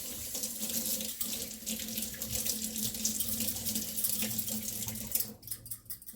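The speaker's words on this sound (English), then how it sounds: "Let me rinse these very quickly." Kitchen faucet running as mixer beaters are rinsed during tiramisu preparation, a steady close splashing stream that cuts off near the end, leaving drips.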